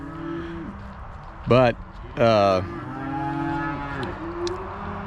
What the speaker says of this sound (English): it's also weaning time. And the calves and cows are complaining